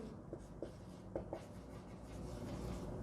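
Soft pen strokes scratch across paper during a math lesson, a few faint taps and short scribbles over a quiet background room hum, with no talking.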